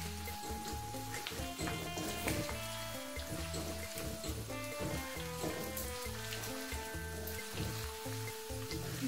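Beef liver frying in a wok with a steady crackling sizzle and scattered spattering pops, close and continuous, under background music.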